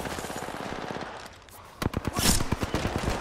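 Gunfire from enemies in a first-person shooter: a run of sharp, rapid shots crackling at mid distance, with heavier, louder bursts toward the end of the stretch.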